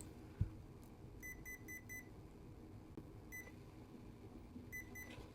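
Electronic speed controller for a small RC crawler beeping during parameter setup: short, faint, high electronic beeps in quick groups of four, then a lone beep and a pair, over a low hum.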